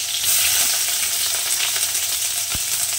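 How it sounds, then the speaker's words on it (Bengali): Sliced onions sizzle in hot oil for a Bengali poppy-seed onion dish: a steady, dense crackle runs the whole time, with one short clink near the end and no voices. "এরপর আমি পেঁয়াজটা দিচ্ছি তেলের মধ্যে"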